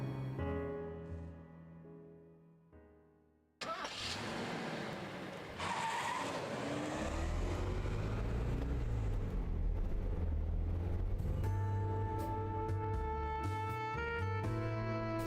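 A car drives in the video game Death Mark with a rising engine drone and tyre skids, preceded by tonal game music that returns over the motor later.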